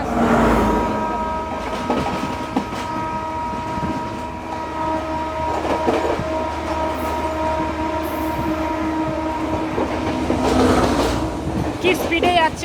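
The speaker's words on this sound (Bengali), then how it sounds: "আর একটা ট্রেন আসছে।" From aboard an Intercity Express running between Jaffna and Colombo, another train passes on the double line with a loud, sustained rumble and rail clatter and a tonal horn-like drone, while voices talk over it.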